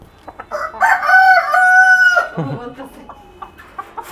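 A fancy rooftop-kept rooster crows once, loud and close into a microphone, a drawn-out tonal call followed by a few softer clucks, with brief human voice sounds around it.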